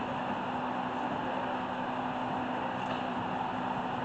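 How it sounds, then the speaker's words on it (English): An electric fan runs close by with a constant, even whooshing hum and a faint low drone, steady throughout with no talk. "Sorry about the noise. I had to get my fan."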